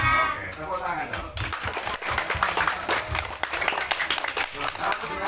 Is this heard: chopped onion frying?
no